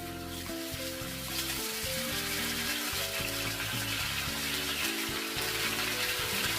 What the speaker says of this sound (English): Sauté the beef over low heat until it achieves a golden brown color.